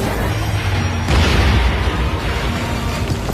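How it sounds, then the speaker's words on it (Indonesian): A fire lotus attack explodes in an animated fantasy fight scene from Battle Through the Heavens: a loud, dense, roaring blast that surges about a second in and rumbles on continuously to the end, with no voices. "Ledakan tersebut seketika menghancurkan beberapa bangunan sekte"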